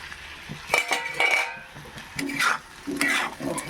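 Vegetables with coriander powder and grated ginger being stirred as they lightly fry in a pan for dalia khichuri: a few close spatula scrapes and metallic clinks against the pan over a faint sizzle.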